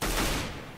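Video game gunfire: a single short, loud burst of shots that fades quickly within a second, with no voices.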